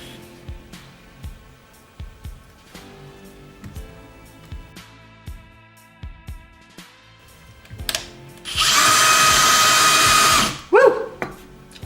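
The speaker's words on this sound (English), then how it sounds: "that's where we're going to do our drill hole" A power drill bores a hole in a wooden shelf board in one loud, steady two-second whine, after a run of sharp knocks and taps.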